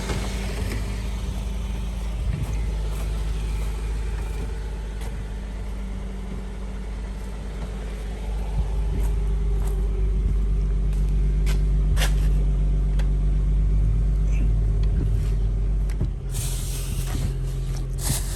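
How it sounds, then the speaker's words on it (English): An Infiniti Q60 engine idles quietly at a rebuild shop, with a steady low hum and faint hiss that run throughout, growing slightly louder midway, and a few light clicks and knocks over the top. "The motor's quiet, man."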